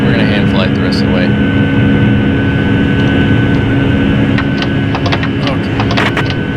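A Boeing 757 jet in a flight simulator video game gives a steady, loud, droning engine roar with a constant whine throughout, while a pilot talks over it.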